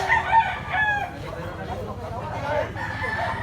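A small gamecock crows loudly and close by, one drawn-out call followed by clucks and other fowl sounds against farmyard background noise.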